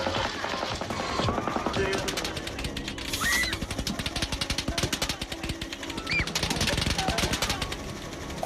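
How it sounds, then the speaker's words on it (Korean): Rapid bursts of gunfire ring out at a concert during a mass shooting in the United States, loud repeated volleys in fast automatic rhythm, with crowd noise and voices underneath. "관광객들은 그제서야 총소리였다는 걸 깨닫습니다"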